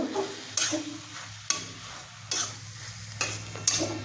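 Cabbage ghonto with ghee and garam masala is stirred in a pan, with a spoon scraping and clacking in a repeated rhythm about five times over a soft, steady sizzle, close and clear.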